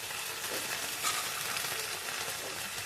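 Fresh tender fenugreek leaves sizzling and frying in oil over a wood-fired clay stove, a steady, close crackling hiss with soft stirring noises throughout and no talk.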